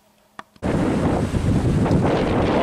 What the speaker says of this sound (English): it's a windy day today in Tallinn, Estonia